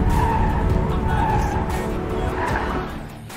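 A Porsche 718 Spyder roadster runs a timed slalom course of cones, its engine roaring close and loud while tires squeal and skid through quick turns, then fading slightly toward the end.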